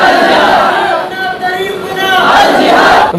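A large crowd at a Pakistani rally loudly chants slogans in unison, with rhythmic massed voices swelling, dipping briefly, then rising again.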